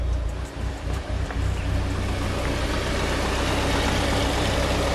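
Mitsubishi Lancer Evolution 8 that sat unused for eight years, its engine idling with a steady low rumble, loud and close, with a slight unevenness early on before settling.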